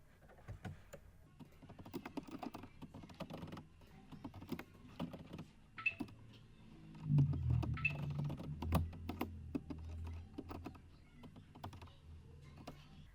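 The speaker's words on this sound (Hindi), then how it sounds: "जैसे कि यहाँ पे हम लिखते हैं ASDF" Keys tapped on a computer keyboard while entering text in WordPad, a rapid series of light, close clicks with short pauses between bursts and a slightly heavier thump of movement midway.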